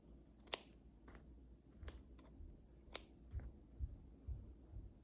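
Scissors snip through cord while a tote bag is made, a handful of short, sharp, fairly close cuts spread unevenly over a few seconds, with soft handling rustle between them.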